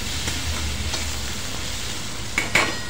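Chunks of red pumpkin are stirred and sautéed with tempering in a pan, a quiet, steady sizzle with a few soft scraping clinks of the spatula near the end.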